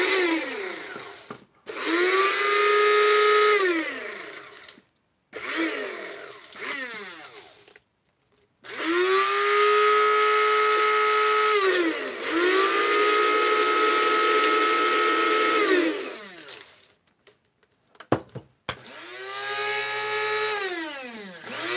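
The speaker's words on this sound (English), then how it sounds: "And I start out with the lower grind and then I go up to the higher grind." An electric grinder grinds dried herbs for paint in repeated bursts, each motor whine rising in pitch as it spins up, holding a steady high buzz, then winding down, with short pauses between runs.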